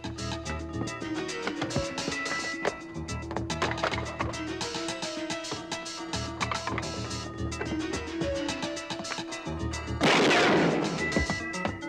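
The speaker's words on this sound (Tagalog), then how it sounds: "Putok ng baril na!" Loud gunfire crackles amid a chaotic, noisy scene, ending with a strong burst of harsh noise.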